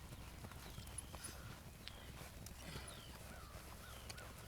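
Andalusian horse moving under a rider, its hooves giving soft, faint irregular clip-clop steps over a quiet outdoor background, with no talking.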